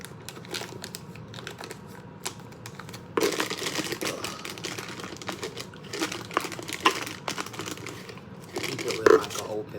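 A plastic bag is folded over a cup for filling with icing, giving repeated crinkling and crackling rustles that grow louder midway, with a voice speaking at times.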